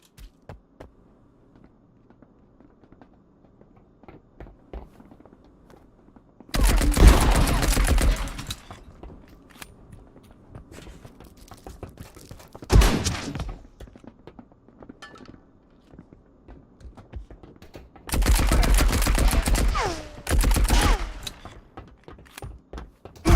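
Apex Legends gunfire in two loud bursts of rapid automatic shots, each a few seconds long, plus a single short volley between them, over quiet in-game ambience with faint footsteps.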